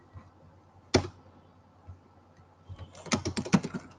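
Computer keyboard typing, close and quiet: a lone keystroke, a pause, then a quick burst of several clicks toward the end.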